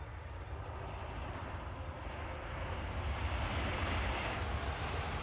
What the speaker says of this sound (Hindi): C-17 ग्लोबमास्टर विमान अचानक रूस के एयरपोर्ट पर उतरा